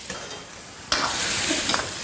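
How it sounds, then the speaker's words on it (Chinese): Garlic, chili, scallion and stewed bones hit a hot wok with a sudden loud sizzle, following a quieter hiss, then keep crackling steadily under a few stirring scrapes. "翻炒匀净"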